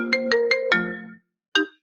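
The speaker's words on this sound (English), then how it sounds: "I don't know how I'm still getting calls" A phone rings from an incoming call despite do-not-disturb mode: four quick bright electronic tones, a held note, then a pause and one more tone, close and clear with no speech.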